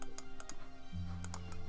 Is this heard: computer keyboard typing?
yes